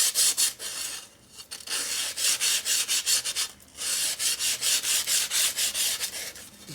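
Sandpaper is rubbed back and forth over a custom chopper motorcycle part in quick, rhythmic strokes, with a couple of brief pauses between the bursts of sanding.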